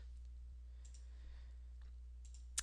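A computer mouse gives a few faint, sparse clicks, the last one sharper and louder, over a quiet low hum.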